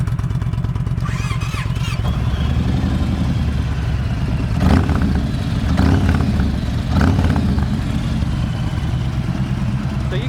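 A Yamaha Raider side-by-side's engine idles with a deep, throaty exhaust rumble close by, then revs sharply three times in quick succession before settling back.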